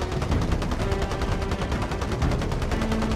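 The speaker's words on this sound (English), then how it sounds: "that was a fucking rocket being launched" In the video game Warzone, a dense, continuous roar of launch and gunfire fills the whole stretch, loud and sustained with rapid pulsing bursts.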